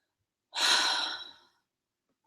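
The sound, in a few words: deep breath in and exhale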